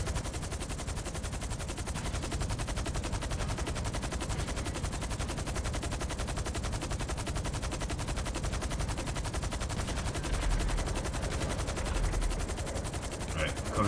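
Sustained rapid automatic gunfire from the video game GTA Online, during a Gunrunning resupply mission, rattles on continuously and loudly without pause for the whole stretch.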